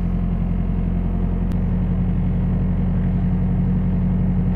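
A vehicle engine idles steadily and close after a fresh fuel filter replacement, a continuous low rumble with an even, unbroken tone and one brief click partway through.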